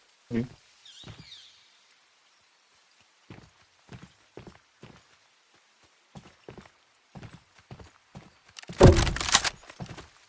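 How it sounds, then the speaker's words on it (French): Scattered running footsteps thud at an uneven pace, moderately close, ending in a loud, harsh burst of noise. "Il y a quelqu'un qui court à l'extérieur."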